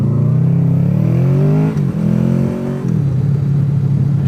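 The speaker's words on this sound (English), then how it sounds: "Now we're behind the shitter truck." A septic pump truck drives ahead on the road, heard from a following vehicle as a loud steady engine drone with rising tonal revving, briefly dipping as gears shift, then settling into a lower rumble, with no talk.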